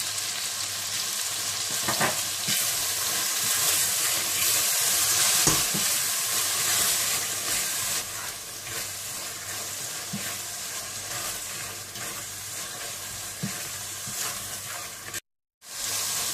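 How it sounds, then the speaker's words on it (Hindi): A chicken pizza masala base of coriander powder, cumin, salt and yogurt sizzles steadily in a pan, with occasional stirring scrapes over a constant close frying hiss that cuts out briefly near the end. "धनिया पाउडर, जीरा पाउडर और नमक और दही भी डाल दें और अच्छी तरह से इसे भून लें।"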